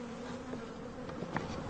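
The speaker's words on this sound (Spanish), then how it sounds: "Las abejas transportadas desde el norte se aclimatan volando." Honeybees brought from the north fly around as they acclimatise, a continuous close buzz of wings with a few individual bees droning past, alone and fairly faint.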